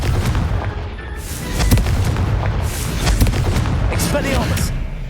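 Confringo fire spell blasts in a Hogwarts wizarding video game, several booming explosions close together over a steady rumble, with a voice calling out spell names.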